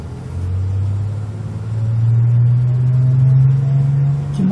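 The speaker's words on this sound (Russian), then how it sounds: "наша маршрутка идет" A minibus (marshrutka) in a short cartoon pulls in with a steady mid-range engine drone that rises slightly in pitch as it nears, loud and alone without talk.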